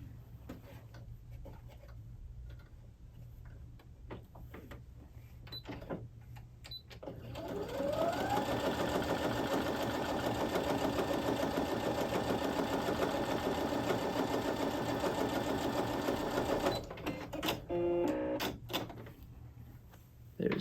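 Baby Lock Presto II sewing machine stitching through real denim, a close, steady rapid whirring and ticking that runs for about ten seconds before stopping, with light handling noises around it.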